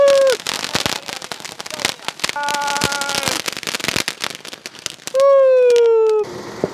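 Diwali firecrackers from a Sivakasi assortment going off outdoors, a dense run of sharp crackling pops and bangs with whistling, screaming rockets rising and falling in pitch, loud and continuous across the stretch.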